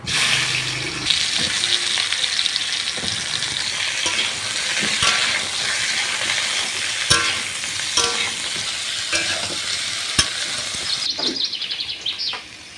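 Cumin seeds and seeded bichi bananas fry in oil for a banana curry, a steady close sizzle with stirring and scraping throughout and a few sharper clicks, no voices.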